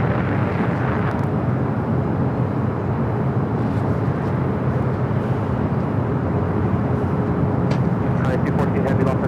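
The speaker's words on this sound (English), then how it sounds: "Next heavy takeoff on the south side." A heavy jet airliner roars on takeoff at LAX, its steady broadband engine rumble loud and continuous throughout, with faint radio chatter under the noise.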